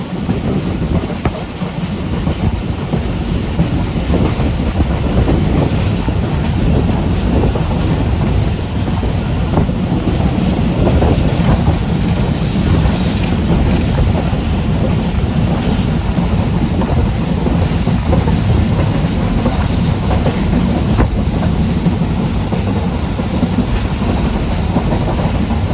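Pakistan Railways Bolan Mail train running along railway tracks near a coal loading area, a loud, steady rumble and clatter of rolling stock that continues without a break from start to finish.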